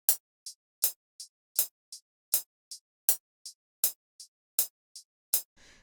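Hi-hat strikes recorded live in FL Studio, alternating with softer metronome-style ticks in a steady even rhythm, about fifteen crisp hits, close and clean with silence between, ending in a brief noisy tail.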